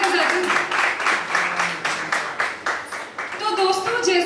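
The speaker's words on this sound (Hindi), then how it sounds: "तालियां बजाते हैं।" Office staff clap together during an Independence Day celebration at work, a moderately loud burst of applause with voices talking over and through it.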